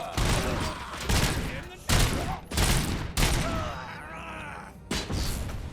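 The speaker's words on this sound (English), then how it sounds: "looks like we're about to have a shootout" Dense gunfire rattles through a shootout in the video game Robocop: Rogue City, with loud bursts and booming shots in rapid succession and brief gaps between volleys.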